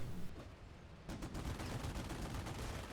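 Machine-gun fire in a World War II infantry battle video game, with rapid, continuous bursts and crackling shots layered over dense gunfire, loud and sustained across the whole stretch.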